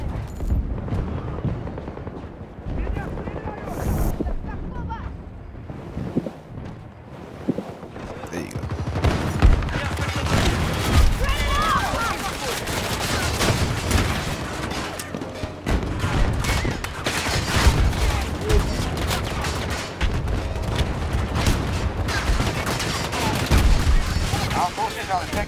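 Battlefield 2042 gunfire in a large Breakthrough battle: sustained automatic bursts, sharp shots and heavy explosions over about twenty-five seconds, loud and dense, with a voice talking over the fighting.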